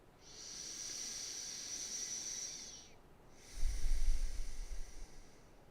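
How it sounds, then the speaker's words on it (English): Slow breath drawn in through the nose during a guided breathing practice, a long airy inhale followed by a brief pause and a second, stronger rush of air, close and alone. "Breathe in through the nose."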